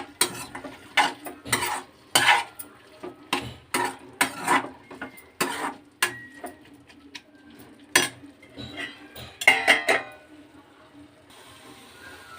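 Tomato pieces frying in a pan for a roti pachadi while a utensil scrapes and stirs them, producing close, repeated clinks and scrapes over a soft sizzle, with a voice briefly audible.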